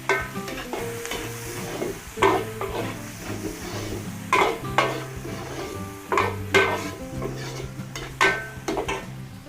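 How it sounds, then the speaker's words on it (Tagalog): Pork shoulder browns in hot rendered fat in a pan, sizzling steadily while a utensil stirs and scrapes against the metal in irregular bursts, heard close up with no talking. "Sangkutsahin po muna natin yung ating kasim hanggang sa maging light brown o brown."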